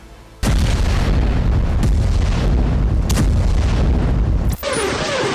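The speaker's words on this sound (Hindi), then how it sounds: "हमास रॉकेट दागकर इजराइल को दहला रहा है। मोर्टार के जरिए भी अटैक किया जा रहा है।" Heavy, continuous rumbling barrage of rocket and mortar fire with explosions in a Hamas attack on Israel, loud and sustained, with sharper blasts cutting through before a sudden shift to a hissing roar near the end.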